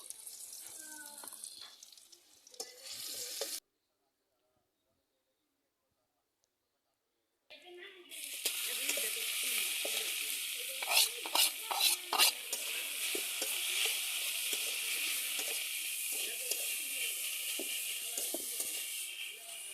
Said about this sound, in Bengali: এখন আমি এই তো বেশি করে রসুন দিয়ে শাকটা বাগার দেব